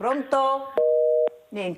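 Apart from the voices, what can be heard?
telephone busy tone after a radio call-in line dropped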